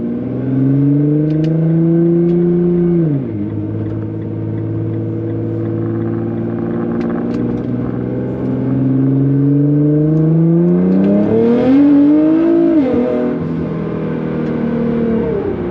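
A Nissan GTR accelerates hard as its tires break loose, the engine note climbing in long rising sweeps, dipping at shifts and surging again, loud and close with a whirring, rumbling undertone.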